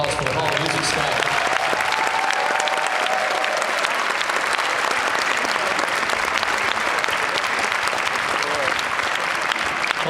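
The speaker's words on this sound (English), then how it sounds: "let's show a round of applause for the Hall of Music staff" A large crowd gives the Hall of Music staff a round of applause. The clapping is dense and steady, holding at an even level for the full ten seconds, with faint crowd noise mixed in.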